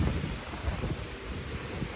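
Strong, cold wind blows outdoors against a phone microphone, a steady low roar and buffeting rumble with no break and no voices.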